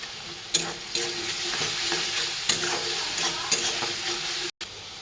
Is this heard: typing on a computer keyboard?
no